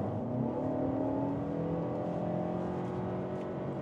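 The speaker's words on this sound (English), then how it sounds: "back to dynamic button, to the sport mode, and let's put our foot down." A Mercedes GLA 250 or GLB 250 accelerates hard in sport mode, the engine note rising steadily in pitch as it revs through the gears, heard from inside the cabin with road roar beneath and no voices.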